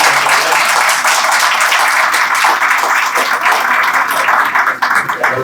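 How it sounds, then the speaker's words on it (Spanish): An audience at a philosophy olympiad claps loudly and continuously, a dense, steady roar of applause with individual hand claps standing out near the end. "Pueden aplaudir."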